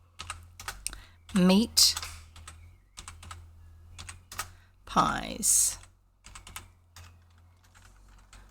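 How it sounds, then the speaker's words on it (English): Hunt-and-peck typing on a computer keyboard with one finger gives sparse, irregular close clicks, broken by two louder bursts of someone speaking. "I get so many mistakes when I'm typing with one finger"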